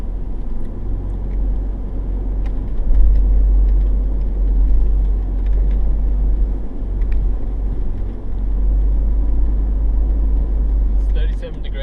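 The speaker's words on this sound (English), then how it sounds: "with the tyres down to 14 psi and that rear locker in, low range first gear, it's just crawling up it nice and easy" A modified Isuzu MU-X 4WD in Imbil State Forest, tyres at 14 psi and rear locker engaged, crawls up a rocky hill in low range first gear with a deep, steady engine rumble close by. A voice talks over it.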